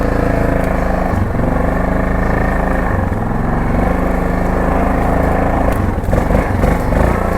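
A 2002 Yamaha Grizzly 660 ATV drives along in low range, its engine droning loud and steady nearby with small swells in revs and some rattling, no talking.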